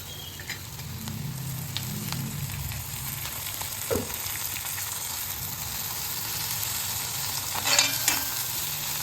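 Green chillies stirred into onions frying in a pan, a continuous soft sizzle with intermittent scraping clicks of the spoon against the pan, close and moderately quiet, no talk.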